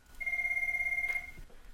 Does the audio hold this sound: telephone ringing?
yes